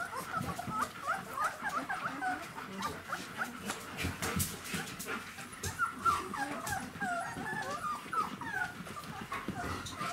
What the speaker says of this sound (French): Les grognements que vous entendez derrière, hein, c'est pas du tout de l'agressivité, hein, c'est simplement de la communication.